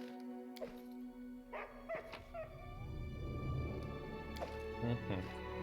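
A dog in the Pathfinder: Kingmaker video game whimpers and yips in short, high, whining bursts, with some low soft barks, close and fairly quiet over a faint game background.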